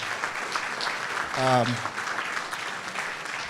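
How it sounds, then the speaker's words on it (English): An audience at a business strategy event applauds the organizer, a soft, steady wash of clapping with a brief voice rising over it midway. "Please give a round of applause for"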